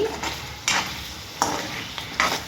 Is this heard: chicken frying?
yes